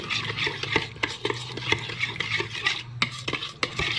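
A spoon stirs paprika and other spices into vinegar in a bowl for homemade biltong marinade, with quick irregular scraping and clinking against the container, close and clear with no talking.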